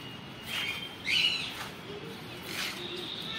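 Several short parrot calls at Gwalior dairy, bright chirps heard one after another at moderate distance with steady background noise.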